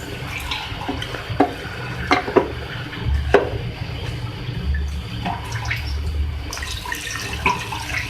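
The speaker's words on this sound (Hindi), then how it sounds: "मैं इसमें पानी ऐड कर रही हूँ चावल गलने के लिए।" Water is poured into a pot of rice for aloo biryani, with uneven splashing and trickling, sharp drips and clinks standing out over a low steady rush.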